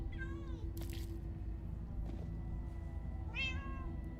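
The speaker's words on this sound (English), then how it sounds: "Oh my god! So many cats." Several cats meow in Minecraft: Story Mode, a few high rising and falling mews spread apart over a steady low game hum, with one brief noisy burst.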